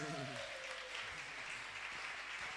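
Church congregation clapping for Jesus, a brief burst of dense applause filling the room at moderate distance, with a voice trailing off at the start.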